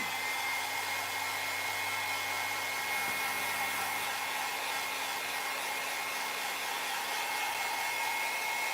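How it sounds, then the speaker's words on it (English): A hair dryer blows steadily with a constant whirring hum, close and even throughout, no talking. "I'm going to put my hair dryer on and just dry it a little bit"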